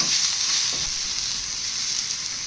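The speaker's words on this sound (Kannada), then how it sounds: "ಈರುಳ್ಳಿ ಹಾಕ್ಕೊತಾ ಇದ್ದೀನಿ ಇದು ಕೂಡ ಚೆನ್ನಾಗಿ ಫ್ರೈ ಆಗಬೇಕು" Onions sizzling in hot oil in a pan alongside curry leaves, tomato and green chillies for an obbattu saaru, a loud, steady, close frying hiss with no talk.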